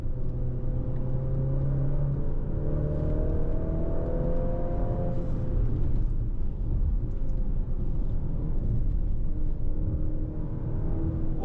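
A Maserati Grecale SUV holds third gear on Tuscan roads, its engine a steady close rumble with rising and falling revs and tyre roar, loud and continuous with no voices.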